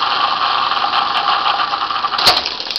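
A Dokorder 8010A tape duplicator rewinds a tape at high speed, making a loud, steady, close whir with a constant tone. A brief clatter comes near the end.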